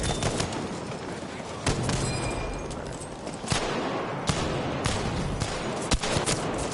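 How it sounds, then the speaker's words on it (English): Covering gunfire rattles through a Battlefield V match in dense bursts, with sharp reports standing out over a constant bed of battle noise and faint voices. "Just like covering fire"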